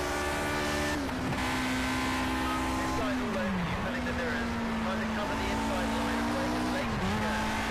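Engines of 1960s Formula One cars in the racing game Project CARS at Rouen-Les Essarts, a loud continuous high-pitched engine whine that dips with gear shifts and braking into corners, then climbs again, close and steady throughout.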